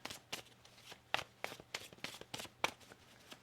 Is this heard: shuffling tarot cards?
yes